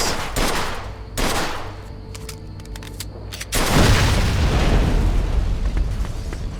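Gunfire and a car's gas tank exploding in the video game Mafia 2: a few sharp shots, then a loud, heavy blast that rolls into a long, dense roar of burning debris.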